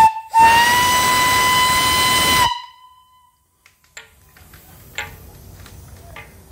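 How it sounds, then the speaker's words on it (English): A model steam engine boiler's steam whistle blows one loud, steady shrill blast of about two seconds with breathy hiss, then stops, leaving faint clicks and quiet background noise. "The whistle is right here. I'll blow it, so you might want to turn down your volume."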